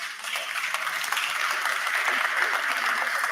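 A conference hall audience at a sports press congress breaks into sustained, dense applause, a steady wash of many hands clapping at moderate loudness without pause.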